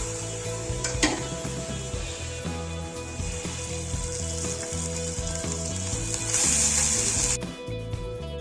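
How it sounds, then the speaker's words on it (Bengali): Sliced onions fry in a pan for chicken biryani, giving a constant close sizzle and crackle with occasional stirring scrapes, a hiss that swells near the end before easing off. "এরপর পেঁয়াজটাকে বেরেস্তা করে নেব।"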